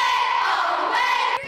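A crowd and cheer team cheer at a football game, a dense, loud wall of shouting and yelling that holds steady for about a second and a half before dropping off sharply at the end.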